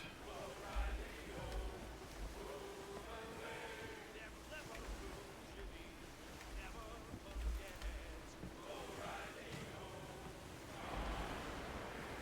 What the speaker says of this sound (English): That's a gust and a half.